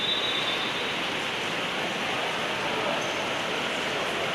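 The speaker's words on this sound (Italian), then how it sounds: "Qui di nuovo gioco fermo, lampi, tuoni e una forte grandine, e piove all'interno del Palatorrino." Heavy hail and rain pelt down inside the Palatorrino indoor arena during a women's futsal match, a dense, unbroken hiss-like roar that holds steady and loud throughout.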